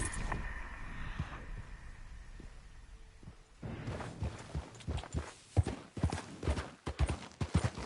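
Horse hooves clip-clopping in Red Dead Redemption, starting as a quiet trot and breaking into a loud, rapid galloping rhythm of close hoofbeats from about halfway through.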